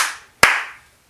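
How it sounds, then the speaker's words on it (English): A single sharp hand clap to the children's song If You're Happy and You Know It at a circle time session, close and crisp, following the tail of a fading voice and then silence. "If you're happy and you know it, clap your hands."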